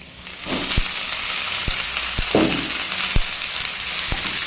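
Bottle gourd greens and taro frying in a pan give off a steady, close sizzle, broken by a few sharp knocks from stirring, with no voices.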